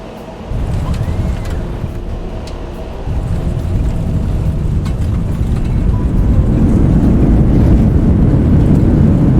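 Boeing 737-800 rolling out after landing in X-Plane 11, a steady low rumble of engines and wheels on the runway that grows louder and denser toward the end, with no talking.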